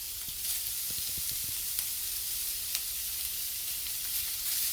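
Mincemeat sizzles steadily in a hot frying pan, a soft continuous hiss with a few light crackles and pops, fairly quiet and heard alone.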